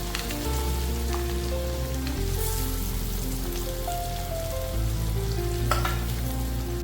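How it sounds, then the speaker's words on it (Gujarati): Boiled potatoes frying in hot ghee for a fasting-day thali give off a steady, close sizzle that lasts throughout, with music playing underneath. "હવે આપણે બટેટા એડ કરી દઈશું. બાફેલા બટેટા જે છે એ આપણે એડ કરી દઈશું."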